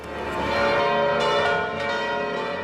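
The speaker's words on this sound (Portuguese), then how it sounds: "Os sinos dobram." Church bells of the Church of the Annunciation in Nazareth ring out continuously, a rich layered peal of overlapping tones sustained loudly throughout with no speech.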